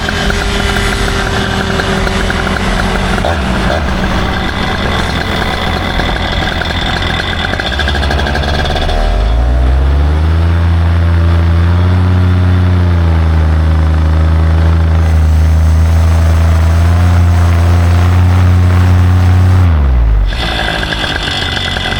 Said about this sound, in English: Hang glider takeoff.